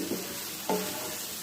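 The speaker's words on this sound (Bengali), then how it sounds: "নিচে কয়টা তেজপাতা আর একটা দারচিনি দিয়ে এখন ভালো করে ভাজা করব।" Bay leaves and a cinnamon stick fry in hot oil over a steady sizzle, with a couple of soft clinks as a spoon stirs the pan, close and without any voices.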